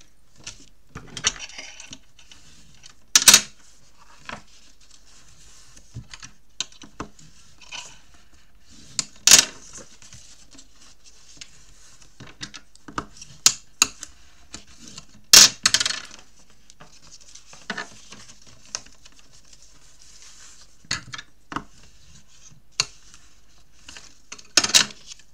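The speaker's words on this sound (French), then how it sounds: "On va commencer par marquer tous nos plis." Paper being scored and creased into folds for a handmade album, sparse sharp taps and short scraping strokes scattered across a quiet background, a few louder clicks standing out.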